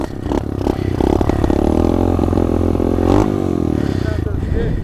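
An SSR 125 dirt bike revs loudly and steadily during wheelie practice, its engine note rising and falling close by with some clatter, with a rider's voice mixed in.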